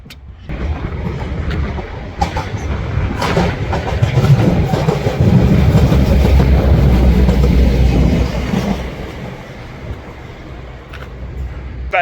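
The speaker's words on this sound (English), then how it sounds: "Better than Stockport, you get trains going through at high speed." A train passing at high speed through Ardwick Station, a rising rumble and rush that swells to a loud peak mid-pass, then fades, with faint rail clatter.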